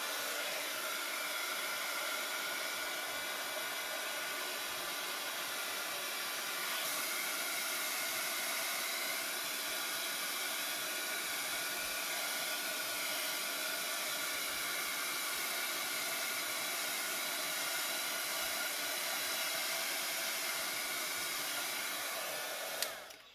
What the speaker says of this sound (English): I'm gonna dry this a little bit using a small heat gun.